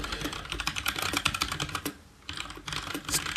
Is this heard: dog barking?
no